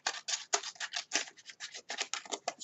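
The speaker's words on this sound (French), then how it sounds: "on coupe les languettes en biseau" Scissors snip repeatedly through paper, cutting tabs at an angle: a quick, close series of about fifteen crisp cuts in an uneven rhythm, with no talking.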